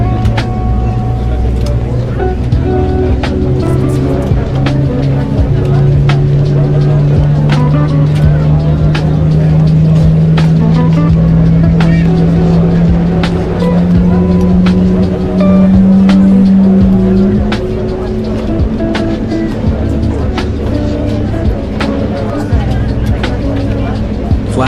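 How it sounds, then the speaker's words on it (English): Aircraft engine 1 starting up in Microsoft Flight Simulator 2024, a low whine steadily rising in pitch over several seconds as it spools, under a constant engine drone and cockpit noise, with talk over it. "Starting engine 1."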